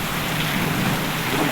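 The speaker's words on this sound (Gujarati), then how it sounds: "કડાકાના ભડાકા સાથે હો વરસાદ છે" Heavy monsoon rain pours down in a Gujarat village, a dense continuous hiss with no distinct thunderclap in this short stretch.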